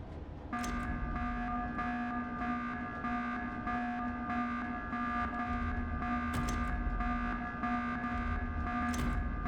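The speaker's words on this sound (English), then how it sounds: "I'm not sure what that loud alarm was about, but it was weird" A loud, steady electronic alarm buzz drones on for several seconds in the horror game Senara: The Sacrament, set aboard a vessel with watertight doors, with a few brief bursts layered over the constant tone.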